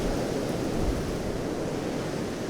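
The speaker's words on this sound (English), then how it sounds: "Still quite windy here." Steady wind in Ireland after Storm Éowyn roars and buffets the microphone without pause, a dense, even rush of noise with low gusty thumps.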